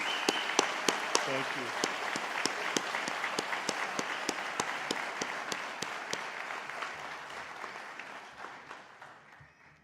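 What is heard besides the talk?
audience applause at a graduation convocation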